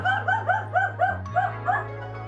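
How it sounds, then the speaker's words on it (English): A dog barks in a quick string of about eight sharp yaps, evenly spaced and fairly close, over a steady low electrical hum. "Dog is barking"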